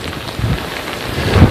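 Heavy hurricane rain and gusting wind lash South Beach in Miami Beach as the first rain band arrives, a loud, dense roar of downpour with surges of wind, no voices.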